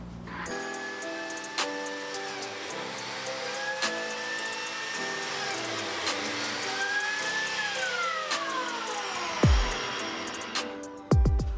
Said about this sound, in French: au démarrage de la machine, l'aspirateur se démarre automatiquement